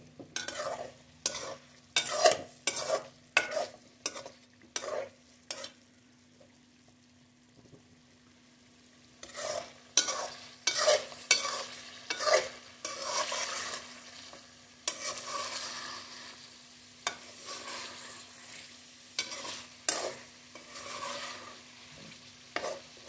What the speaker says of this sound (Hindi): अब आपने अच्छे तरीके से इसकी भुनाई कर लेनी है।